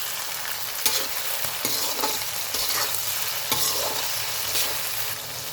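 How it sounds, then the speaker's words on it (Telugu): Vegetables for veg noodles stir-frying in a pan, a loud continuous close sizzle broken by periodic scraping and tossing strokes of a spatula. "ఇప్పుడు ఇంకా 3 మినిట్స్ బాగా ఫ్రై అవ్వాలండి ఇది."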